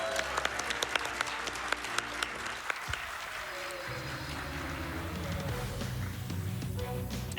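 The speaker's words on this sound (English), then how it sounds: "Can we get some applause for the donations crew?" Applause from a crowd at the Awesome Games Done Quick 2025 speedrunning event, steady clapping that swells and continues throughout, with a faint voice briefly audible early on.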